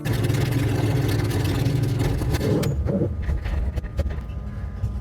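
A drag car does a second gear burnout at a strip during Big Sky Race Week in Montana, its engine roaring loud and close for a few seconds before cutting off into idle clatter.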